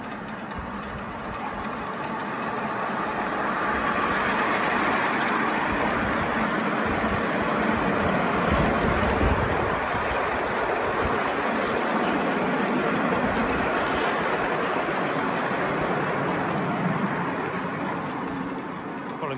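A model Class 20 locomotive pulling a long rake of wagons on a club layout, a steady continuous low rumble and whirr of running motor and rolling wheels throughout, fairly close.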